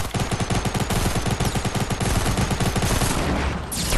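Rapid automatic gunfire in a video game blasts at a wall in a dense, loud, steady burst of rhythmic shots lasting several seconds, then fading near the end.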